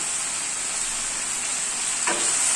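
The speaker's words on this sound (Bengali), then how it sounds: "ভেজে রাখা মাংস আর আলুগুলোকে ভালো করে একসাথে কষিয়ে নিতে হবে বেশ খানিকক্ষণ" Chicken and potatoes fry steadily in a pan with garlic, giving a continuous bright sizzle, and a single short scrape of stirring near the end, close up with no voices.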